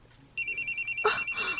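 A telephone rings with an incoming call, an electronic trill in rapid pulses starting abruptly and continuing loud and close, briefly overlapped by a thump.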